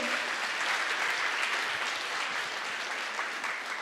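Audience applause at a hackathon finale, a dense, steady wash of clapping from a crowd filling the whole moment with no pauses.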